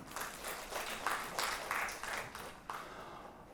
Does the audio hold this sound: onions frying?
no